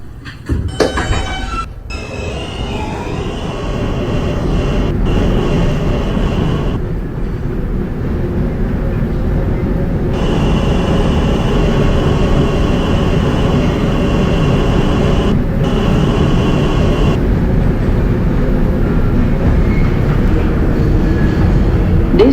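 An R160 J subway train rides toward Broad Street on the New York subway, giving a steady loud rumble and rattle of wheels and car body, with brief dips and shifts in the roar as it runs along the track.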